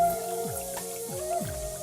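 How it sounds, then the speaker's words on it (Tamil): Hands being washed at a wash basin: water drips and splashes with a few wet squishing sounds, close by, with no talking. "இதான் வாஷ் பேசின். இங்கதான் கை கழுவணும்"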